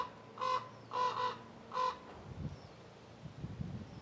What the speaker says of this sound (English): Playing with the crows.